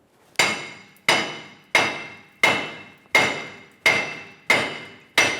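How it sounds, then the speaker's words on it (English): Eight sharp metal hammer blows land at an even, steady pace, close and loud, each ringing briefly, as a front wheel bearing hub is knocked loose on a 1994-2002 Dodge Ram 2500. "we'll just give it a couple loving bonks with a hammer"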